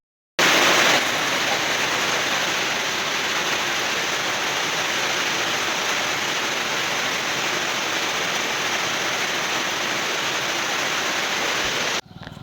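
Steady, dense rain pouring down during a stop on a long motorcycle ride from Berhampore into Jharkhand, a continuous even hiss that fills the scene from start to finish with no voices over it.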